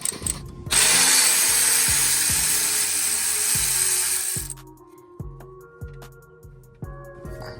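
Power tool removing an M10 bolt on an Audi S8 4.0T engine, a loud steady drill whir for several seconds over a regular ratcheting click, then the motor stops and quieter repeated ratchet clicks continue close by.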